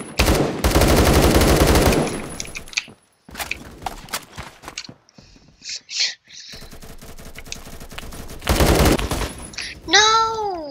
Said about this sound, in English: Really good assault rifle or whatever you want to call it.